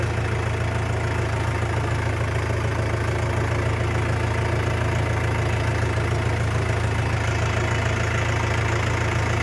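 A Mahindra tractor engine runs in a field, a loud, steady, close diesel rumble with an even knocking throb and no break for the whole stretch.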